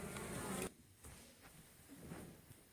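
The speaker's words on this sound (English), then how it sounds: "the bees are foraging on a whole range of different plants and flowers" Honeybees foraging on plants and flowers hum steadily and fairly loud for a moment, then drop to a fainter, patchier drone close to the microphone.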